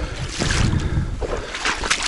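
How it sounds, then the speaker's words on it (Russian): Wind gusts buffet the microphone with a low, uneven rumble and rushing noise, outdoors on a marsh during a spring goose hunt, close, with no voices. "Ветер, конечно, здесь немножко дует."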